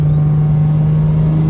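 Single-turbo car fitted with a T51R turbo, heard from inside the cabin with windows up: a steady deep engine drone with a rising high turbo whistle, loud and continuous, no voices.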